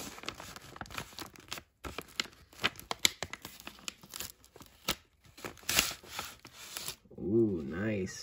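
A mailed package envelope from Japan holding Pokémon items is handled and opened, with irregular crinkling, rustling and tearing of paper at close range, broken by short pauses and a brief louder rustle near the end.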